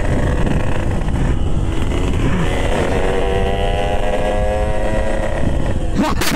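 A Yamaha RX King two-stroke motorcycle with a ported engine roars loudly while being ridden, its engine pitch climbing steadily, with heavy wind buffeting over the microphone and a voice talking briefly.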